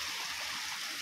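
Water flowing through a pipe on a hillside: a brief, steady rushing and trickling wash, moderately faint and continuous, with no voices.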